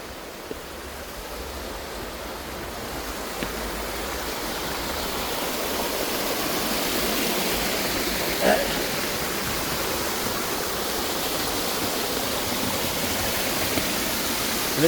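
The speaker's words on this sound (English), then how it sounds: "that's a waterfall up there" Waterfall at Bleakbeck Falls pours in a steady, broad rush of falling water, close and continuous throughout, swelling slightly in the middle with a brief knock near the end.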